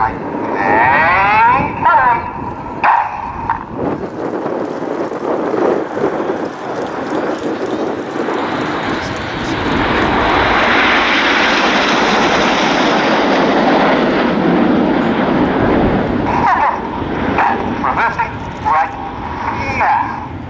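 A Eurofighter Typhoon jet passes during an air show display at RIAT 2016, its roar swelling to a loud, broad rush and then fading, while a commentator's amplified voice talks over the start and the end.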